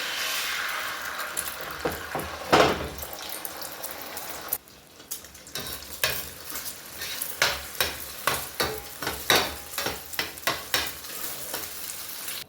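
Eggs fry in hot oil, sizzling and crackling in the pan, with repeated stirring or scraping strokes in a steady rhythm, close and fairly loud.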